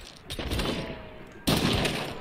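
Bursts of gunfire from a rival team in the game Hunt: Showdown, a sustained volley followed by a louder, closer second burst of shots.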